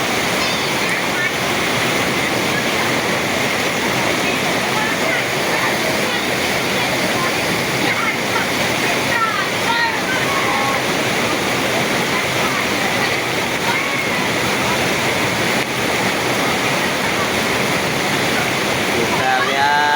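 Curug Leuwi Tonjong waterfall pours in a loud, continuous rushing roar of falling water that fills the scene steadily from start to end, with voices faintly present beneath it.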